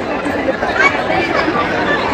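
Crowd chatter at the main gate of Tuljabhavani temple in Tuljapur: a dense, continuous babble of many nearby voices with no single speaker standing out.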